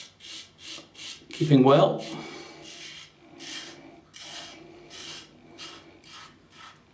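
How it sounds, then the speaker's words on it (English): Close, rhythmic rasping strokes from a Parker 76R safety razor shaving stubble, with a brief bit of speech partway through. "When you're shaving, you really hear the sound of the metal against your stubble, especially on the first pass."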